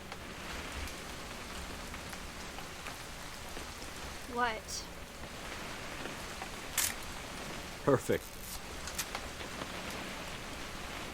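Rain falls steadily in What Remains of Edith Finch, a soft continuous hiss throughout. Brief voices and a couple of short clicks and knocks sit on top of it.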